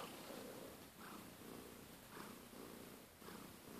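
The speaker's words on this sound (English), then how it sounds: "She's purring." A cat purrs steadily and softly up close, the rhythmic rumble rising and falling with each breath, faint and alone with no other sounds.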